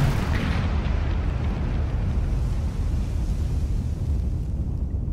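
Large 2.5-meter rocket launcher lifting off in Kerbal Space Program, a loud continuous roaring rumble that holds steady throughout with no talking.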